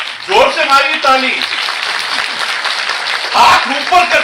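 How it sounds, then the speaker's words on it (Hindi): Loud clapping from an audience at a state-level Teelu Rauteli women's event in Uttarakhand swells between stretches of a man's amplified speech, with a broad, steady wash of hands in the middle. "जोर से मारिए ताली"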